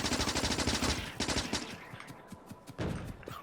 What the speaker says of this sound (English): you can see how the SMG is much faster at shooting the little ones